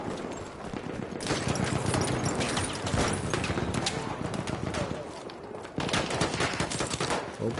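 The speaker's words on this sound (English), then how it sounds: "Look, he keeps shooting me." Rapid gunfire in the video game Battlefield 1 on PS4 Pro, bursts of close shots and machine-gun rattle running almost continuously, with hoof-like clatter and a player talking over the action.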